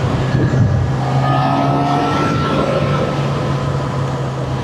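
A car on a road in Bayshore Park, running on brand-new tires, with a steady engine hum and tire rumble heard from inside for the whole stretch, with no talking.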